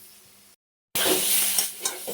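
Spice paste with aubergine and potato stirred in a hot frying pan for a Bengali fish curry, a steady close sizzle with scraping spatula strokes after a brief pause.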